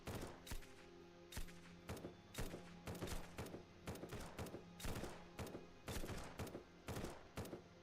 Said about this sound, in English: that sounds like a turret